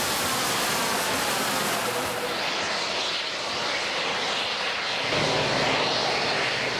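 A man flying a jet board above the Silverstone circuit before the start of the 6 Hours endurance race, a loud steady roar of rushing jet thrust that fills the whole clip without letting up.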